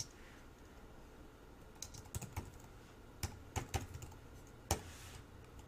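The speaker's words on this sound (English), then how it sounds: "here we're just going to type in the name of the member" Typing on a computer keyboard: scattered, irregular keystroke clicks begin after a quiet start, close and fairly soft, with a few sharper taps near the end.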